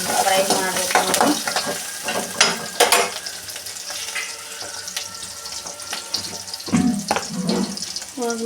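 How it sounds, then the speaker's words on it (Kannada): Tomato and coriander fry and get stirred in a pan, a close, busy sizzle with scraping and clattering stir strokes, some louder bursts, and no talking. "ಟೊಮೆಟೊ ಹಾಕ್ಕೊಂಡೆ ಮತ್ತು ಕೊತ್ತಂಬರಿ ಹಾಕ್ಕೊಂಡೆ. ಸ್ವಲ್ಪ ಫ್ರೈ ಮಾಡಬೇಕು ನೋಡ್ರಿ."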